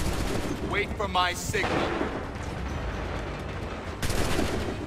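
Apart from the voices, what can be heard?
musket volley gunfire in video game Assassin's Creed III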